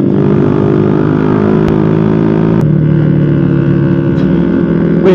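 Honda Revo FI motorcycle engine droning steadily while riding on a Sunday group ride alongside a Kawasaki ZX25R, loud and close throughout with constant wind rush, a brief click near the middle and a slight pitch shift as the engine note changes.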